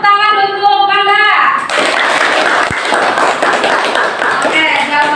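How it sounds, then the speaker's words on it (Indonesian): Classroom applause for a student, a burst of clapping from a group that follows a moment of children's voices and continues steadily to the end, with some talking over it. "beri tepuk tangan untuk Manda"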